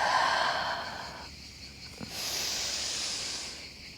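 A long, deep exhaled breath during a Pilates exercise, breathy and close, first rising then fading, followed by a softer airy rush.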